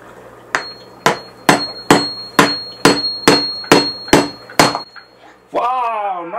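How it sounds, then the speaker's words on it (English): A hammer strikes rock while rockhounding, landing about ten sharp, evenly spaced metallic blows close by, each ringing briefly, followed by a short voiced sound at the end. "Mommy's gonna hammer."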